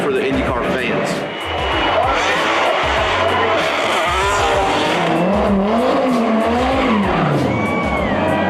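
A drift car slides at Motegi Super Drift, its engine screaming and tires squealing continuously and loudly for the whole stretch, with rising and falling engine pitch and a voice talking over it.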